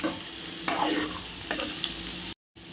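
Beetroot stir-fried in oil in a pan, with a steady sizzle and a few close spoon scrapes through the mixture, then a brief dropout near the end.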